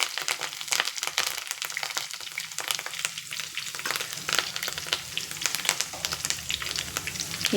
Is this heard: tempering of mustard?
yes